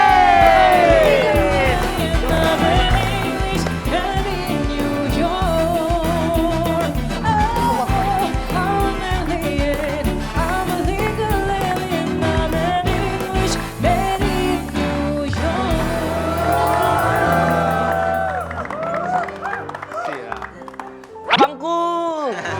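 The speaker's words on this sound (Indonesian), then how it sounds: "tepuk tangan yang meriah untuk Rudy Salim" A studio audience applauds and cheers loudly for a guest arriving on an Indonesian TV show. The steady clapping and whoops run under music, a host speaks over them, and the noise fades near the end.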